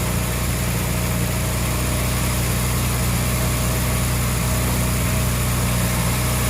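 A Morris Minor engine, freshly fitted with a rebuilt carburettor and four new plugs, runs close and steady after a cold start, with a continuous buzzing idle throughout.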